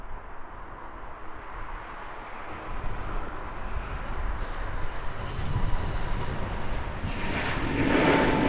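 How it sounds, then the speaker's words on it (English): A British Airways jet takes off from Heathrow Airport, its broad engine roar building steadily and swelling louder toward the end, heard at moderate distance without talk. "Takeoff well then for British Airways flight 968 off to Hamburg."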